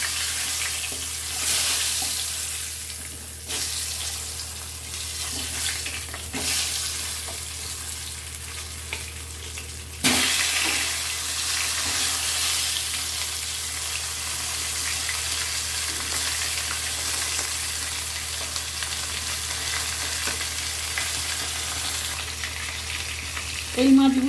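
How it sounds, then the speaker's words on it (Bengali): Koi fish fry in a pan of hot oil, giving a loud, steady crackling sizzle throughout with a brief jolt partway as pieces shift, close up and without talk. "এই মাছগুলোও ভাজা হয়ে গেছে।"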